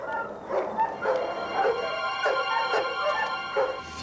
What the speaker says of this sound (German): Wir haben 86 Hunde hier.